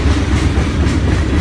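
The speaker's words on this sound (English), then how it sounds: "Look at those hoppers." Freight train hopper cars roll steadily past close by, a loud continuous rumble with rhythmic clickety-clack of wheels over rail joints.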